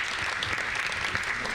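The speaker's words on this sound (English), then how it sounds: "give them another round of applause" A council meeting audience gives a short, steady round of applause, a dense wash of clapping with no talk over it.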